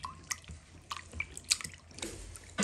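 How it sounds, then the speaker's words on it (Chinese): Pig blood cubes washed by hand in a bowl of water for soup, giving soft irregular squishes, drips and splashes at close range with no talk. "用手淘洗淘洗，把猪红粒清洗干净"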